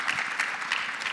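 An audience at an eClosing industry talk applauds warmly, a dense, even patter of many hands clapping at moderate distance for about a second, with no speech over it.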